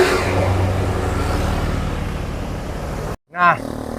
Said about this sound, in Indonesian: Mobil di depan juga masih berusaha untuk nanjak.